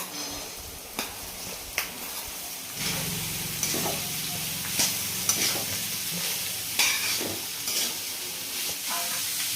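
Carrot pieces drop into hot oil and start sizzling steadily, with scattered scraping clicks of stirring throughout.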